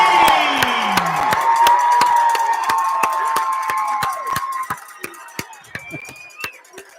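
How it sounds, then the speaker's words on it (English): Rowdy gym crowd cheering and whooping at a Marion versus Haven basketball game, a loud sustained roar that fades into sharp claps and stomps, with whistles and shouts over it. "As soon as this crowd gets done being rowdy,"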